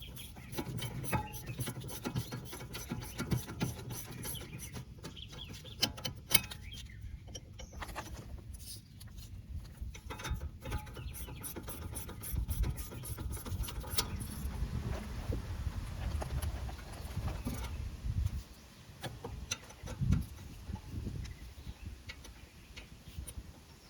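Quiet ratcheting clicks come in uneven runs as a bolt is tightened on the rear brake caliper of a Nissan Maxima, with faint metallic handling and rubbing between the clicks.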